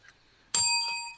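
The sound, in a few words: bell being dinged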